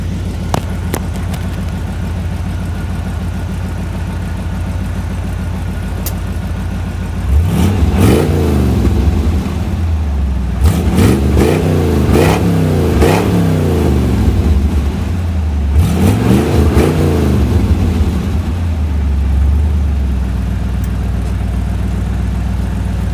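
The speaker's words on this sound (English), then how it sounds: "see if I can rev it up for you" A 1954 Ford Mainline Business Coupe hot rod V8 with glass pack mufflers idles with a deep burble, then revs up in three bursts, the low rumble swelling and falling back to idle.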